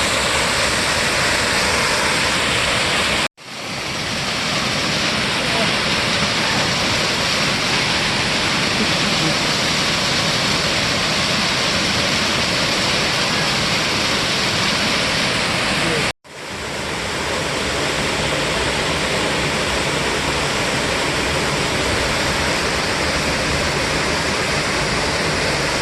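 Lower Eldridge Hollow waterfall in Arkansas pours as a loud, steady broadband rush close by, broken by two short gaps where the sound cuts out.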